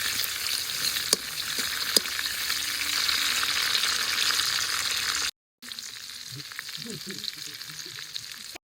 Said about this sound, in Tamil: இப்போ பாருங்க இப்படி இருக்குன்னு இறால் எல்லாம் பொரிஞ்சு